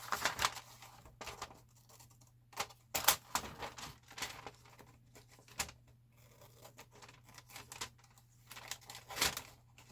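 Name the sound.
scissors cutting paper pieces for a journal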